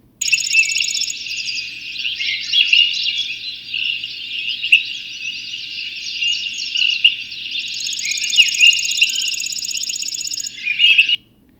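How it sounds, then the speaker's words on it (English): A chipping sparrow delivers a long, dry, insect-like trill of rapid identical notes, close and clear, running almost unbroken for about eleven seconds in a quiet outdoor setting. "that like chipping sound is the chipping sparrow"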